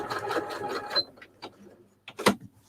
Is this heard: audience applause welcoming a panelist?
no